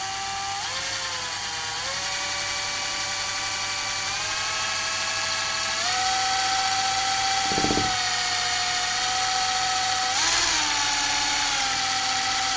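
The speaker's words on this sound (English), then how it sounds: "A very cool gadget for you to have, a drill." A small electric drill runs continuously with a high, tonal whine whose pitch steps up and down as the speed changes, fairly close and with no talking, plus a brief rattling burst midway.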